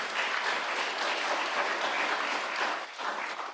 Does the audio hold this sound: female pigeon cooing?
no